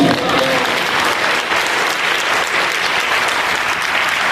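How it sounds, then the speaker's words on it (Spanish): A church congregation applauds in a sustained burst of dense clapping that fills the room at an even level. A faint voice may sound beneath it. "Denle un aplauso al Señor."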